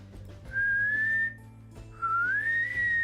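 A person whistles two airy, weak rising notes with a short gap between them, thin and breathy, close and alone with no talking.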